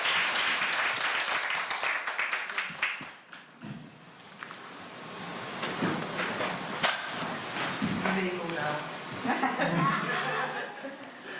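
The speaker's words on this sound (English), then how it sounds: "Give them a big round of applause" An audience at a press review and artist's talk for a contemporary Korean women's exhibition claps, the applause loudest at first and then thinning, mixed with chuckles and talk.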